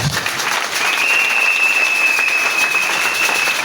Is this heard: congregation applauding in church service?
yes